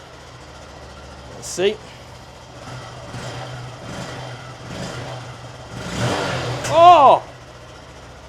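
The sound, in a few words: written-off Honda Grom motorcycle engine starting and revving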